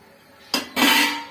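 A spoon scrapes and clinks against a pan while butter paneer curry with chili powder is stirred, two short close bursts of rough scraping.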